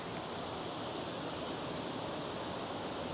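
Water flows steadily in a stream at Taman Rimba Kiara Park in Kuala Lumpur, a constant faint rushing wash with no breaks or voices.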